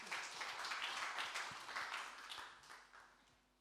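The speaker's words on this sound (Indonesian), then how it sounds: "Berikan tepuk tangan buat Tuhan Yesus." Applause from a church congregation during an Indonesian Sunday service, a dense wash of clapping that swells early and then gradually fades, with faint voices underneath.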